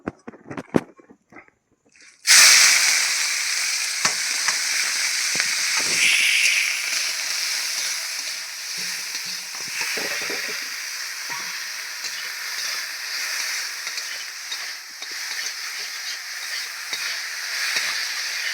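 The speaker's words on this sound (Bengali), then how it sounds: "আমি এবার মাছগুলো কড়াইতে দিয়ে দেব" Mud eel fish from the Sundarbans dropped into a hot wok in a village kitchen: after a quiet start, a sudden loud sizzle bursts in and holds as a steady hiss with small crackles and occasional stirring taps.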